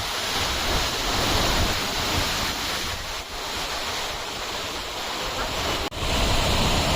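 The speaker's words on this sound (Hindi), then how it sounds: "I hope you guys enjoy watching this waterfall in this video." Nungnung waterfall in Bali roars as a steady, dense rush of falling water, loud and continuous throughout with wind buffeting the microphone and no voices.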